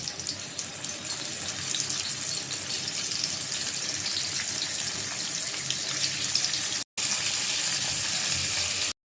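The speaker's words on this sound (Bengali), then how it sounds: "তাওয়াটা গরম হয়ে গেছে তেল দিয়ে দিলাম মাছটা লবণ হলুদ দিয়ে মেখে নিয়েছি দিয়ে দিলাম" Shing fish rubbed with salt and turmeric frying in hot oil on a pan, a steady loud broadband hiss and crackle that continues without a break except for a brief cut near the end.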